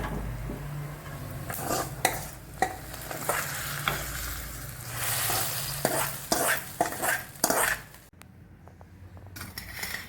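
Mustard seeds tempering in hot oil for a Kerala amaranth-stem pacha theeyal curry, a close, loud sizzle with repeated spoon-and-pan scrapes and clinks as it is stirred, dropping to a quiet hiss near the end.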